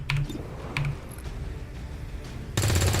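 Soldiers fire weapons in a heavily modded XCOM 2 battle, with a couple of short, sharp gunshot bursts early on, then a sudden loud, sustained stretch of firing at the end.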